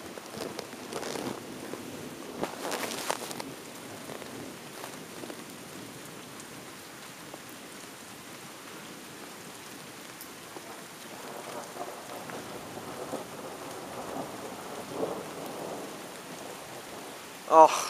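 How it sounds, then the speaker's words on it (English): Steady rain patters at night throughout with a few brief louder swells, and a sharp close knock right at the end; no clear thunder rumble stands out. "the rain's starting up again"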